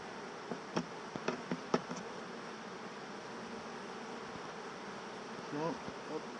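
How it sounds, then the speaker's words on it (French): Honey bees buzz softly at a hive during hiving, a faint continuous hum broken by several sharp tapping knocks early on and a brief louder buzzing pass near the end. "Vous voyez un peu toutes les abeilles qui vont arriver."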